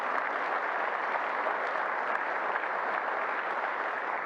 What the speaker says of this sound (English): So if you'll give them a round of applause for the effort that they put in today.